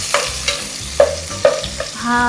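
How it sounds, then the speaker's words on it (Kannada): Chopped onion fries in a pan with a soft background sizzle, broken by several sharp spoon-against-pan scrapes and knocks at an uneven rhythm, close and fairly loud. "ಈರುಳ್ಳಿ ಹಾಂ ಹಾಕಪ್ಪ. ಫ್ರೈ ಆಗಲಿ."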